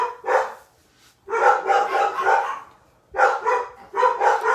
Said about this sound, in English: Dogs are barking, dogs are barking.